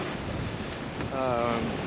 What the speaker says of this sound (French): le vent souffle à 12-13 nœuds